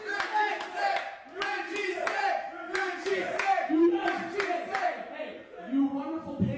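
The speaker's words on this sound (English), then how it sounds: "Crowd not letting Derek Simonetti speak here" A wrestling crowd at a Project Zero Wrestling event chants and shouts loudly and steadily, with rhythmic claps, drowning out a speaker on the microphone.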